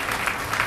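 A live concert crowd at a Portuguese hip-hop show bursts into applause, with a brief, dense wash of clapping and no speech audible.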